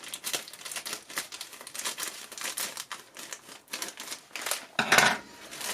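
Crinkling plastic packaging from a Barbie doll being unboxed, a run of dense crackles and rustles close by, with a louder burst of handling near the end.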